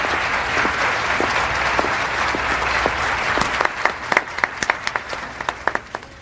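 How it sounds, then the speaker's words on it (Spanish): An audience applauds a young contestant, a dense steady wash of clapping that thins toward the end into scattered, distinct individual claps. "Un fuerte aplauso para esta joven y encantadora concursante."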